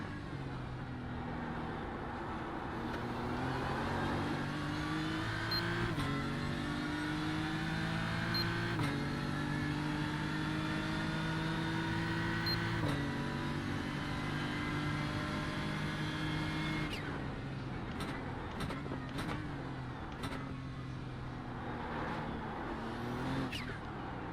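NASCAR Xfinity Series race cars at Daytona roar continuously, their engine notes sliding up and down as the pack runs, with a steady loud drone and no speech.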